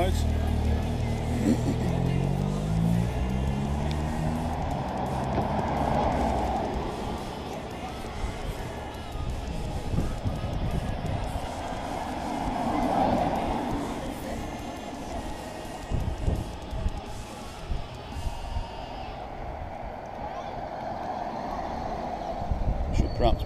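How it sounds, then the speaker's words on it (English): Neutral service cars roll past on a downhill road behind the riders at the Chorley Grand Prix cycle race, their engines swelling close by then fading, with people talking over the passing traffic. "That's the neutral service cars."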